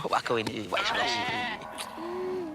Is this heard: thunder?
no